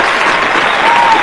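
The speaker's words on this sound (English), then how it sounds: "Give him a round of applause" A studio audience applauds during a radio interview, a dense burst of clapping that fills the short stretch loudly and evenly, with no pause.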